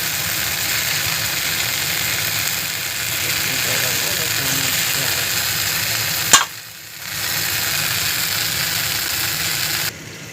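Eggplants fry in a pan with a dense, steady sizzle that runs almost the whole time, broken by one sharp click and a short dip before the sizzle returns.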